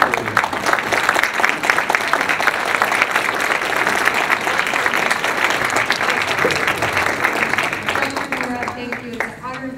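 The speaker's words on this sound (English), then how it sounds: "And a big round of applause for all the families who are here." A crowd at a 2013 Windsor University commencement applauds the families present, dense and loud clapping that fills the hall steadily, with cheering and voices mixed in and a faint fade near the end.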